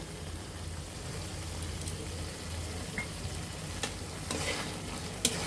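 Prawn masala gravy thickened with onion bubbling and sizzling steadily in a pan, a soft continuous simmer with a few faint clinks and crackles over about five seconds, no voices.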